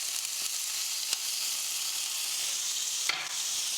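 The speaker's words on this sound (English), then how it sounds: "as soon as they start popping, you get your onions in." Onions hitting hot coconut oil with popping cumin and black mustard seeds give a steady, close, broadband sizzle with a few sharp crackles and stirring clicks, no voices.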